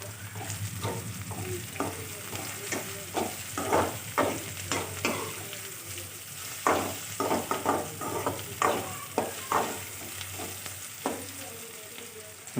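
Egg curry ingredients frying and being stirred in a pan, a steady sizzle broken by repeated scraping stirs in bursts, close and alone with no talk.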